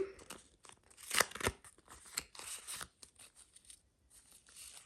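Close, crisp tearing and crinkling as a paper surprise packet from a burger-themed puzzle collection is ripped open, in several quick bursts with rustling between them.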